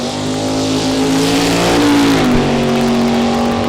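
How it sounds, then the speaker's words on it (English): A white Corvette and a Chevelle at a Mo-Kan Dragway drag racing qualifying session roar loudly at full throttle, a sustained, steady engine howl with a slight pitch shift partway through, close and continuous with no talking. "Little from Walnut, Kansas is going to be in the white Corvette on the pit side in the redemption lane, going first"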